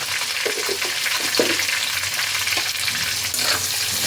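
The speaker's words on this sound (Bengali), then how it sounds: "এবার পেঁয়াজটাকে ভালোভাবে ফ্রাই করে নিতে হবে" Chopped onions with a pinch of salt fry in a pan. The steady, close sizzle goes on throughout, broken by a few soft knocks and scrapes as they are stirred.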